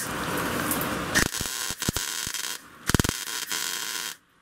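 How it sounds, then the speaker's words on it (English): Electric welding on a Subaru exhaust straight pipe, crackling buzz in bursts of a second or so, broken by short gaps and sharp pops, fairly close, before cutting to near silence at the end. "I'm going back to welding now."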